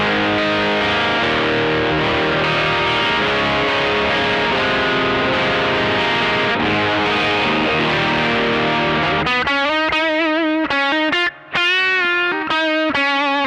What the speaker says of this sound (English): Then we go to the overdrive on the Keywest. This gives me like a thick overdrive sound, but still not a distortion sound.